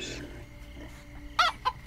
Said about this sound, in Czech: Slepička.